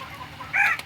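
Two-year-old laying hens give a short burst of clucking, a quick close squawk near the end over a faint low hum.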